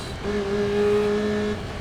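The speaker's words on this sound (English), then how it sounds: "Oh, over-revved. I think that was an over-rev." A race car engine in the Assetto Corsa EVO video game holds a high, steady whine as it over-revs, a sustained tonal drone that runs for about a second before dropping away.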